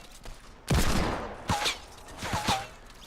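Pistol gunfire in Fortnite, three separate shot clusters, each a sharp crack with a short decaying tail, fairly loud and spaced about a second apart.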